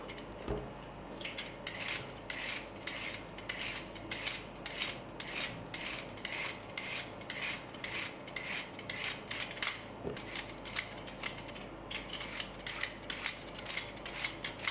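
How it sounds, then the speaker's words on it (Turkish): A knife chops eggplant into cubes on a cutting board in a home kitchen, a long run of crisp, repeated cutting strokes with short pauses, close and clear with no talking. "şimdi patlıcanı doğrayıp hemen suya götüreceğim"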